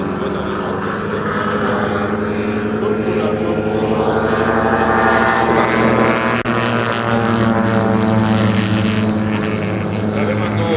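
A large RC model airplane, 17 feet in span, runs its engine and propeller close by. It makes a loud continuous drone with shifting harmonic tones, and its pitch rises and falls as the throttle changes.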